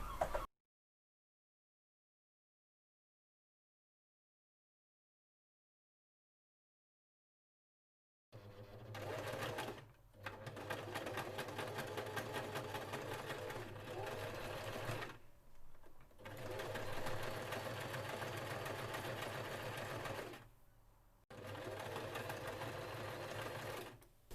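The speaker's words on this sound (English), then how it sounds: "I'm going to sew this with a zigzag stitch which will be visible on the outside." A sewing machine stitching a zigzag hem on a colourful four-panel skirt, running in steady rattling bursts with short pauses between them, alone and close after a long stretch of silence.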